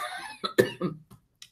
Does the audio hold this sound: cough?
yes